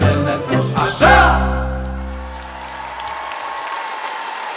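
At an ethno-folk ensemble stage show, an audience breaks into applause as the performers' final sustained chord rings out and slowly fades, the clapping continuing more quietly beneath it.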